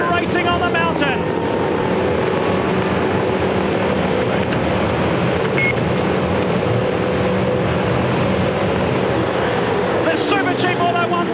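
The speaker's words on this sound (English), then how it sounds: "Here we go, the revs rise." Massed V8 Supercars engines rev hard at the start of the 2006 race on the mountain, a dense, loud, unbroken roar that holds steady throughout while a commentator talks over it.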